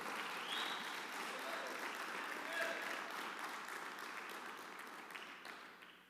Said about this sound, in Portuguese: dê uma forte salva de palmas para Jesus aí